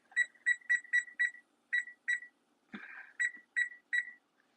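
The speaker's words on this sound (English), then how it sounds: "After you hear the beep" While chicken pilaf cooks, a kitchen appliance emits about ten short, bright electronic beeps in quick clusters, broken by a brief clatter partway through, against an otherwise quiet background.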